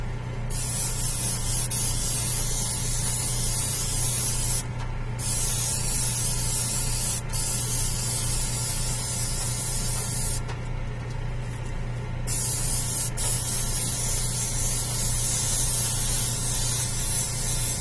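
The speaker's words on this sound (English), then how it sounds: "Alright, so for the most part, I got this mid-tone highlight kind of sprayed." Continuous hissing airbrush spray as a mid-tone highlight is applied to a Batman model figure, steady and close, with a low electrical hum underneath and a few brief pauses in the spray.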